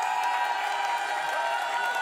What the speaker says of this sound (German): Ich sehe ein hartes Jubeln.